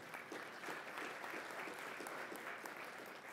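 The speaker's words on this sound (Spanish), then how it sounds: "Le damos también un gran aplauso" At an energy forum session, an audience gives a welcome round of applause, a continuous patter of many hands at moderate distance, fairly even throughout.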